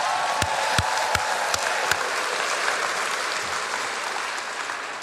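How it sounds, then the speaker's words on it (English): A crowd at a get-out-the-vote rally for Nina Turner applauds in a thick continuous roar, with a few loud, distinct close claps standing out near the start before the sound settles into steady, slowly fading clapping. "Give yourself a round of applause."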